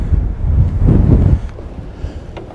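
Strong wind buffets the microphone on a sea fishing pier, giving low rumbling gusts that swell loudest midway and then ease into a softer, unsteady roar.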